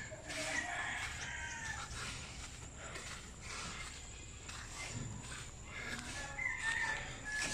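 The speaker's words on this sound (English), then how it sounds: "More of the neighborhood chickens that be running around and acting all crazy." Chickens cluck and squawk outdoors amid background noise, with scattered bird calls and a few rustling footsteps.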